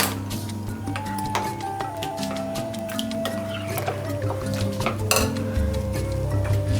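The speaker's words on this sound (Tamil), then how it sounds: "ஸ்டவ் ஆன் பண்ணிவிட்டு ஒரு தவா வைக்கிறாங்க." A metal tawa griddle is set down on a home kitchen stove, giving a brief clank over a steady background hum with a few light metallic clinks around it.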